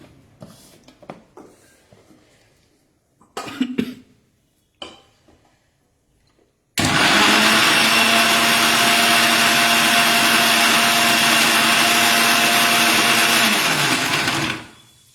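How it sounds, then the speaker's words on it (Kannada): A kitchen mixer grinder blending recipe ingredients. A few quiet handling clatters and bumps come first, then the motor starts abruptly and roars loud and steady for about eight seconds before winding down, with no talk. "ಈಗ ಇದನ್ನ ಮಿಕ್ಸಿ ಮಾಡ್ತೀನಿ"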